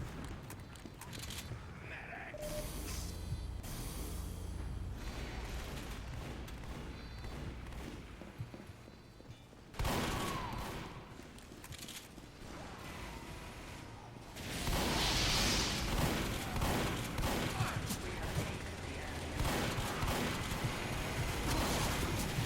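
Rapid bursts of gunfire and booming explosions from Team Fortress 2, dense and chaotic, with sudden shifts in intensity.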